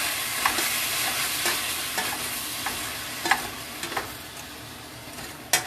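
Thawed ground meat sizzles and fries in a hot pan for a casserole while a small meat chopper scrapes and breaks it up, with irregular clicks and taps over a steady frying hiss, close and alone.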